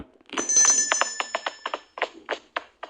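Telephone ringtone trilling in a room, a fast pulsing electronic ring with rapid bursts repeating steadily, loud and close with no talk over it.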